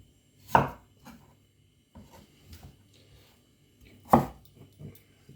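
A knife chopping potatoes into big chunks on a board for homemade soup: two sharp, close cuts a few seconds apart with softer knocks and handling sounds between them.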